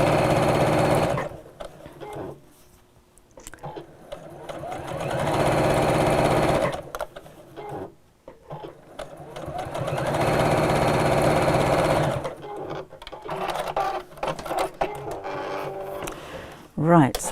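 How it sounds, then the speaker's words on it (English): Sewing machine running top stitching along a drawstring pouch, three long steady bursts of motor hum with pauses and brief stops between, close and fairly loud; someone talks during the quieter gaps. "I do like the look of top stitching."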